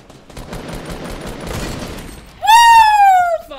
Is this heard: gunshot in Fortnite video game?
yes